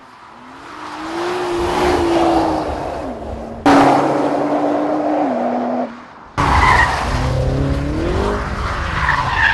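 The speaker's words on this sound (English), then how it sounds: "Chris puts a BMW M5 up against a Nissan GTR in a top secret showdown" A BMW M5 and a Nissan GT-R race hard, tires squealing in long skids with rising and falling pitch, the engines roaring close by, broken by two abrupt cuts between shots.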